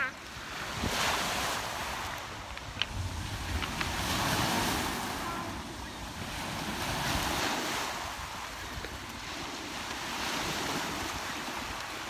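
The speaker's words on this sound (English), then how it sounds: "I'll just show you the lake again" Wind gusts and lapping lake waves roll on steadily throughout, with heavy wind rumble buffeting the microphone and no voices.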